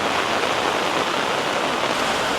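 Heavy, steady rain pouring down in a wet season, a dense continuous roar of falling water that stays loud and even throughout with no voices.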